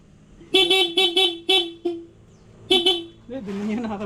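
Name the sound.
motorcycle horn honking (Yamaha Aerox scooter)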